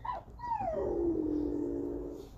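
Dogs howling and whimpering nearby, a falling whine sliding into a long drawn-out howl that holds steadily for over a second, loud and clear with no talk.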